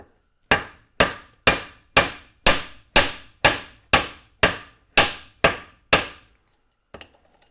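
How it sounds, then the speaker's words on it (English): A ball peen hammer beats a piece of copper wire with about a dozen sharp, evenly spaced metallic strikes roughly every half second, close and loud, followed by a couple of faint taps. "beat it with a ball peen."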